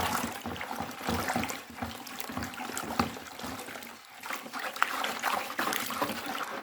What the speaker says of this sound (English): We're going to mix the salt until it dissolves.